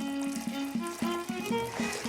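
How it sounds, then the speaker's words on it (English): Water poured into flour with yeast and salt for bread dough, a close liquid trickle with rhythmic gurgling pulses as the bowl fills. "Next, yeast, water and salt are added."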